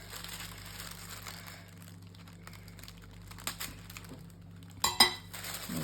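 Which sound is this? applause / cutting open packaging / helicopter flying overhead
cutting open packaging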